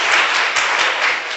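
A Korean church congregation breaks into applause during a sermon, a brief burst of dense, loud clapping from many hands.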